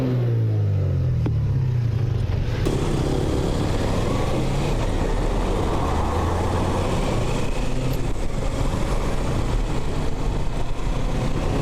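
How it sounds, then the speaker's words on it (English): A motorcycle engine revs hard, a rising roar that climbs in pitch in the first seconds then holds a loud, steady drone close by. "Why is the rider revving though?"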